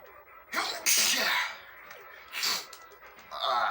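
A person sneezes loudly up close, followed by a couple more sharp sneezy bursts and breaths.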